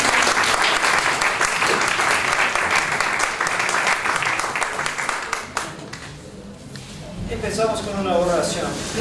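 An audience at a Catholic talk applauds a priest with steady, dense clapping that tapers off after several seconds as a voice begins speaking.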